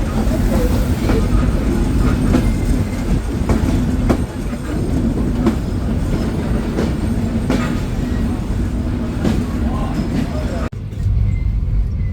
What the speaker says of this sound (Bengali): ট্রেনটি ছেড়ে যাচ্ছে পোড়াদহ জংশন রেলওয়ে স্টেশন